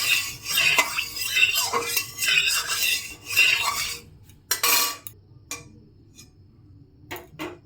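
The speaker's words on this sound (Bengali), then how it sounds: "তেলটা ছড়িয়ে নেব।" A spatula is pushed in repeated quick strokes to spread white oil across a hot wok, making scraping, rattling sounds for several seconds. A few sparse metallic clinks follow in near quiet.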